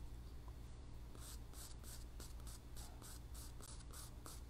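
A pencil moves across paper in quick, rhythmic scratchy strokes, close and quiet, repeating steadily in short bursts.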